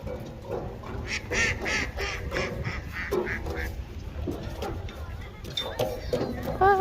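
Ducks quack repeatedly at a lakeside park at Clearlake, their calls mixed in among people talking and a voice nearby.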